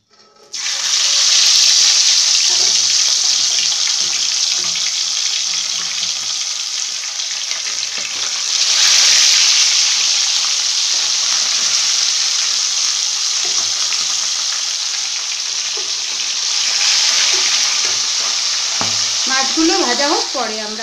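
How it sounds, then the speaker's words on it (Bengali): Bhola fish frying in hot oil, a loud, steady sizzle that runs unbroken throughout, swelling in a few bursts with spatters and crackles and no voices over it. "এখন আমি মাছগুলোকে ভেজে নিই।"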